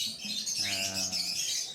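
Birds at a bird farm chirp in quick, close, bright tweets that overlap continuously.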